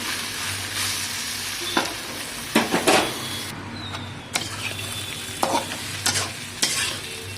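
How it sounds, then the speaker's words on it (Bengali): Goat or sheep brain (bheja) frying in oil in a pan, a steady close sizzle with intermittent louder scraping stirs of a spatula through the clip, no voices. "দেখুন কত সুন্দর ভাজাটা হচ্ছে, আস্তে আস্তে কালারটা এসে যাচ্ছে।"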